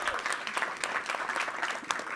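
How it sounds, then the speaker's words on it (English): An audience at a real estate masterclass in a hotel gives a short round of applause, a steady patter of many hands clapping at moderate volume. "can we give a quick round of applause to Hotel Melby for hosting us here?"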